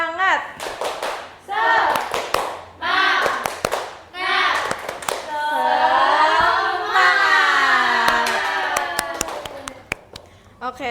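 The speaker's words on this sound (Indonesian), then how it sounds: "Bisa tepuk semangat semuanya?" Indonesian classroom group doing tepuk semangat, a spirited rhythmic clapping routine: bursts of sharp claps in patterned groups mixed with chanting voices, then a sustained sung or shouted stretch, loud and close.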